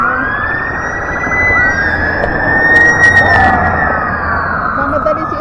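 A police car siren wails loudly as it passes along a street in the Czech Republic, its rising and falling tone sweeping over traffic noise while a person talks nearby.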